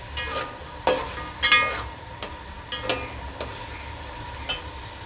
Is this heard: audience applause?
no